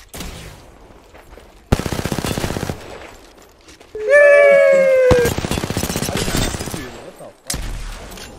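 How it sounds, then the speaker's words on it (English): Gunfire in a video game rings out in loud bursts of rapid shots, separated by short gaps, with a whistling tonal effect partway through. "Getting shot at."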